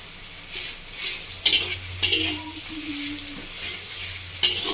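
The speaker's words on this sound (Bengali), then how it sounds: "পটল আর পেঁয়াজটা বেশ ভাজা ভাজা হয়ে গেছে" Pointed gourd and onion sizzle steadily in hot oil in a pan, with a constant close hiss and occasional scraping stirs and clinks from a spatula.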